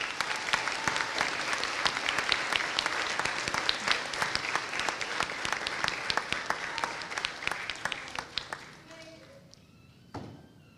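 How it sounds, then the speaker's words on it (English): Audience applause for a school NJROTC cadet unit at an elementary moving-up ceremony: dense, sustained clapping from a large crowd with some voices mixed in, tapering off near the end before a final thump. "Let's give a round of applause to the NJROTC,"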